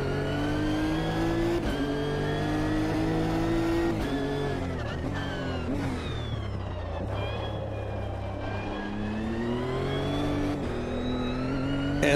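A race car in Automobilista 2 brakes hard while the gearbox downshifts through several gears, the engine note dropping and blipping in stepped revs, loud and close with no talking.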